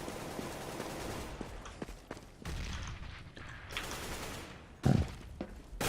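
Gunfire from a CS:GO match between HellRaisers and Gamers2, with rapid bursts of shots and individual cracks over a steady bed of game ambience. One louder, heavier blast comes near the end.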